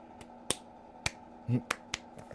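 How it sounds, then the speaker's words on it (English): Several sharp, quick claps sound close by at uneven intervals, with a brief low murmur in between. "I'm clapping."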